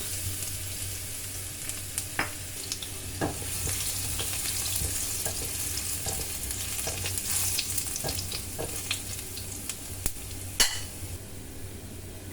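Garlic sizzles steadily in a little oil in a hot pan, a continuous crackling hiss broken by a few sharp spatters and light stirring clicks, close and fairly loud throughout.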